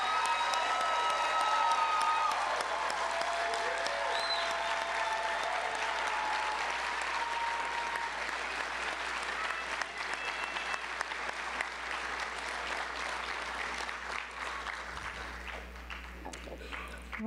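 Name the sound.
audience applause at a ceremony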